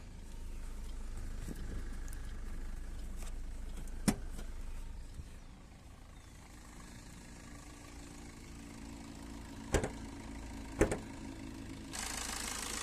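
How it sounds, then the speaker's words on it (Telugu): A 2012 Maruti Suzuki Swift ZDi diesel hatchback engine idles steadily with a low, even rumble, broken by a few sharp clicks and knocks along the way. "ఇంజన్ సౌండ్ చూపిస్తా చూడండి మీకు"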